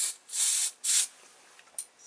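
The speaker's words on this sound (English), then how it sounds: "Turn it upside down to clean out the nozzle, spray it a couple of times" An aerosol spray can, held upside down to clear the nozzle while fitting a 3D printer build plate, gives a short hiss, then two longer loud hissing bursts, followed by faint rustling and a brief final puff.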